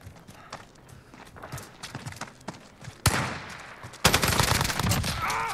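F88C Austeyr rifle in Call of Duty Modern Warfare, with rapid automatic gunfire that grows louder and denser in the last seconds, over softer clatter and movement noise.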